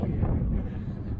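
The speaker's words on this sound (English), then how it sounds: "fortunately it was slightly windy." Wind buffets a microphone outdoors beside the Empress Pub in Liverpool, a steady low rumble that fills the whole stretch with no pauses.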